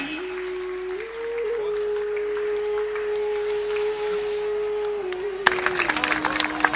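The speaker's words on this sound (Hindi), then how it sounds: "तालियों का सम्मान चाहूंगा" Audience applause at a Jain Panchkalyanak religious gathering, bursting out suddenly near the end after a long sustained tone, a brief loud patter of many hands clapping.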